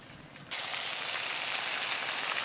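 Fish laid onto spice masala in a hot pan bursts into a loud, steady sizzle after a quiet half second, the hiss holding strong and even to the end.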